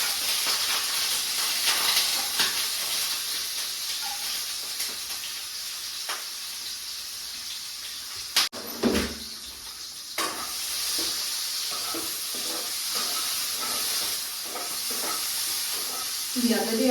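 Food sizzles and fries in a pan, giving a steady, loud hiss throughout with occasional stirring scrapes and clatters, close by.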